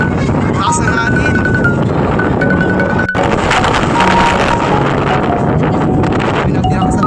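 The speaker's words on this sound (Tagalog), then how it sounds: "Lakas ng hangin." Strong wind on the highest mountain peak at People's Park in Tagaytay, Philippines, buffeting the microphone in a loud continuous roar with rumbling gusts, while people talk in the background.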